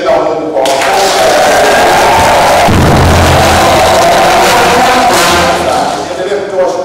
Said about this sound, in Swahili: Tumshangilie tena Mungu kwa makofi.